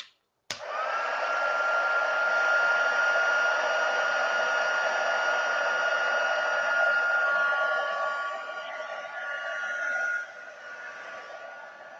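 A heat tool blowing hot air to melt white embossing powder on a Valentine card, a continuous close, even whooshing drone that keeps going for several seconds and then drops slightly near the end, with no voices.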